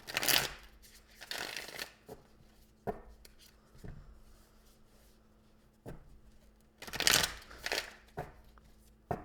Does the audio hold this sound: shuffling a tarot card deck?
yes